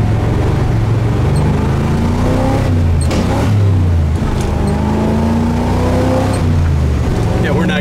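A 1981 Camaro Z28 V8 accelerating hard on wet pavement, engine note climbing and dropping as it shifts up through the gears, loud and close from inside the car, with someone talking over it.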